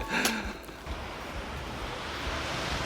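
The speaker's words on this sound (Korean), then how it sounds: "와 파도 소리" Ocean surf along the Jeju coast on an Olle trail, a steady broadband wash of waves heard close and fairly loud, with a brief sharper bump near the start.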